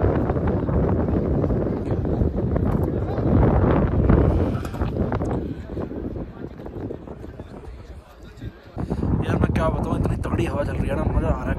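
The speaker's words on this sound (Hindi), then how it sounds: "आपको हवा की आवाज़ आ रही होगी भाई, क्योंकि हवा तेज़ है बहुत ज़्यादा" Strong mountain wind at Sissu near Manali buffets the microphone in a continuous loud roar with gusting surges, briefly easing before returning.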